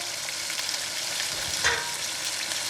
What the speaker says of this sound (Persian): اندازه 3-4 تا لیوان فرانسوی هم آب جوش بهش اضافه میکنم